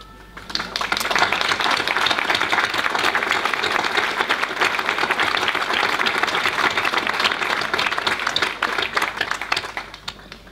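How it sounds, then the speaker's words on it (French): Sustained crowd applause at the inauguration of the riverbank along the Cher at Azay-sur-Cher, a dense steady wash of many hands clapping that stays loud for about ten seconds before tapering off. "Je voulais vous demander de les applaudir,"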